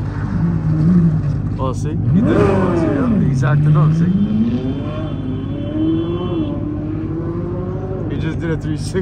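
A car spins through a 360 at a night car meet, its engine revving hard with rising and falling pitch sweeps, loud and close, while people chatter in the background.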